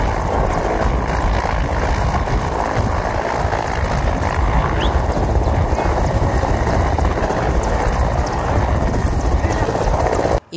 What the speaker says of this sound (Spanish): Antes había arribado a la Procuraduría de Justicia otro helicóptero de la Policía Federal con 20 compañeros de Hipólito Mora.